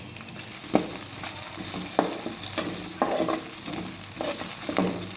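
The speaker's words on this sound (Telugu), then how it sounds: "ఆనియన్స్ ఫ్రై అయిన తర్వాత పొటాటోస్ వేస్తానండి." Diced potatoes frying with onions in a pan for a potato curry, a steady close sizzle broken by regular scraping stirs of a spatula against the pan, with no talking.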